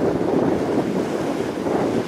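Wind and waves at high tide on the beach shore of Malpeque Bay, Prince Edward Island, make a loud, continuous rushing wash with wind rumbling across the microphone and no voices.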